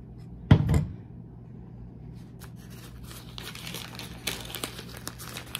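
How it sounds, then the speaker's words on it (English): Loud, brief crinkle of a plastic Wilton piping bag being handled as white buttercream frosting goes in, followed by softer scattered rustles and light knocks. "I'm going to go ahead and put it in a Wilton bag."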